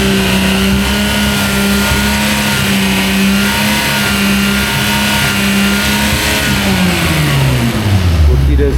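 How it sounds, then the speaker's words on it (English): A Nissan R33 GT-R engine runs steadily at a strong, even idle while its air conditioning is recharged, then the pitch drops toward the end as it slows; the engine is loud and close. "The car you hear in the background is my own car, my R33 GT-R."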